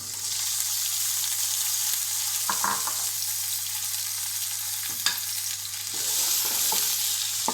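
Steady, loud sizzling of chopped peppers frying in hot sunflower oil, with a few brief clinks and stirring scrapes breaking through the hiss.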